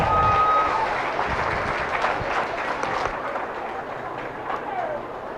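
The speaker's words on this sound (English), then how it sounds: "Let's give a nice big round of applause again." Sustained crowd applause at a 4-H/FFA beef showmanship and steer show, a steady dense wash of clapping that fades slightly over several seconds, with announcer talk under it.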